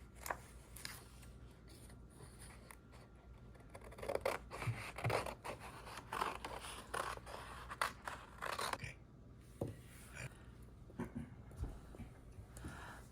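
Scissors cutting glittery foil cardstock while making a card, a series of soft scraping snips and rustles, quiet and close, with no talking.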